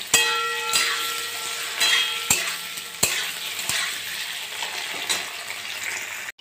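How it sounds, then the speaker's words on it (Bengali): Paneer pieces fry in hot oil in a pan with a continuous bright sizzle, broken by a few sharp clinks of a spatula stirring. "এটা আমি ভেজে নেব, একটু ব্রাউন ব্রাউন কালার হয়ে আসলে উঠিয়ে নেব"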